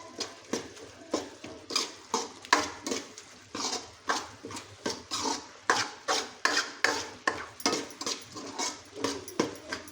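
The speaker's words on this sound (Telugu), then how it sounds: "మీ రుచికి తగ్గట్టు వేసేసుకొని బాగా కలుపుకోవాలి." A spoon stirs chilli powder and salt into a tomato egg curry, making a rhythmic run of about twenty close scraping strokes against the pan in steady succession, with no voices.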